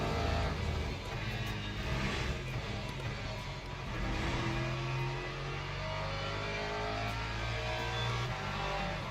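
Race cars circling a track in Le Mans Ultimate, a steady loud engine drone with shifting pitch as they run close together, continuous throughout with no clear talk.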